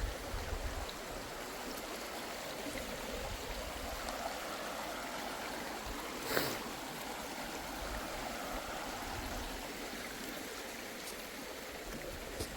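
A clear, ice-cold stream fed from the hills in Scotland rushes continuously in a steady broadband wash, close and even, with one brief splash midway and no voices.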